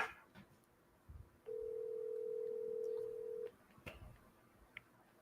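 Telephone call on an automated voice messaging line: a short burst of dialing clicks, then a steady single-pitch tone held for about two seconds, then quiet line noise with faint clicks.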